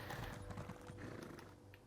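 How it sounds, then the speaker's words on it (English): Horse hooves clip-clop in The Elder Scrolls Online as a mount moves across Bleakrock Isle, a faint, quick rhythm of soft hoof falls heard alone in the game. "Maybe if I'm on my horse."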